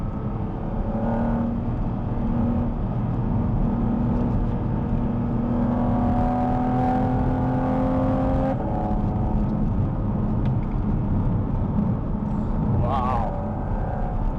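Porsche 718 Cayman GT4RS engine droning steadily under load on an open road, a sustained tone rising in pitch then shifting as the car accelerates, with a voice speaking over it.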